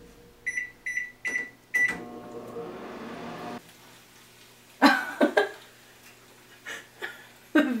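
A microwave oven cooks bacon in a bacon bowl: a series of short electronic beeps as it is set, then a steady low running hum, followed by a few clunks and rattles.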